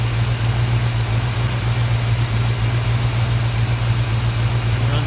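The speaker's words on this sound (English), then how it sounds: "You can see the engine will sit here and idle." A car engine idles steadily on its own, a continuous low rumble with an even hum that never changes pace, close and fairly loud with no one speaking.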